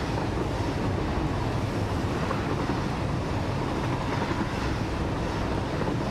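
Steady rumbling roll of a train along rails in the factory-building game Satisfactory, a dense continuous broadband drone with faint clickety-clack, loud and unbroken throughout.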